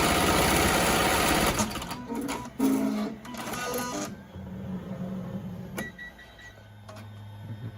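A Melco embroidery machine stitches a fabric mask with a fast, loud mechanical chatter, then slows and fades to lighter intermittent ticks and a low hum.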